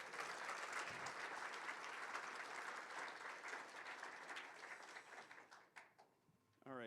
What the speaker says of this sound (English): Let's give a round of applause for Gabby Langston.